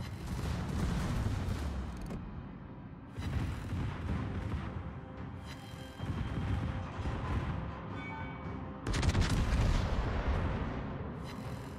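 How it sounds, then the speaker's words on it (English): Rapid, overlapping booms of a battleship's secondary guns firing in World of Warships, a dense continuous barrage with heavier bursts surging near the start and end, no talk over it. "Man, that's a lot of guns to be shooting."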